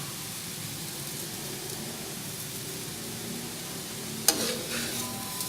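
Carrots for gajar ka halwa sizzle steadily in a pan, with a soft, continuous frying hiss and one sharp spoon scrape or clink near the end.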